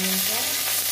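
Garlic cloves and black cumin fry in hot oil for a lentil and bottle gourd dal, a brief dense sizzle that stays even and close.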